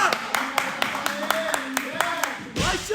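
A group of people clapping in steady, evenly spaced claps to encourage athletes during a fitness test, with a voice talking and calling out over the rhythm.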